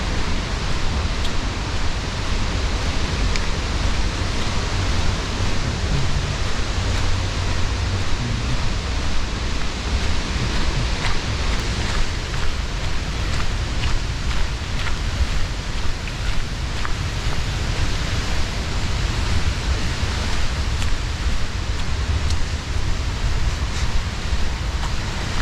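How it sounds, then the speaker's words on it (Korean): A waterfall running at heavy flow after days of rain gives a constant, thick rushing roar that stays loud and even throughout, with no speech. "오랜만에 왔는데 폭포가 아마 물이 엄청 날 거예요"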